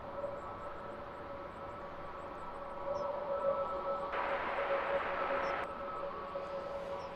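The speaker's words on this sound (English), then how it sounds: "neo-liveried EasyJet, which is now hurrying along to catch the back of the queue for departures" A neo-liveried EasyJet Airbus A320neo airliner taxis toward the departure queue at London Luton Airport. A faint, steady engine hum with a thin whine swells slightly partway through, then eases back, heard from a distance.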